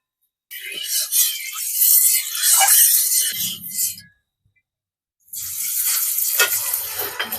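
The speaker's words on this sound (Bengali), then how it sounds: "ডিমটা ভেজে নেব তার জন্য কড়াইতে সাদা তেল দিয়ে দেবো" An egg fries in white oil in a wok, giving loud bursts of sizzling. A roughly three-second spell of sizzling is followed by a short silence, then a second burst starts up again.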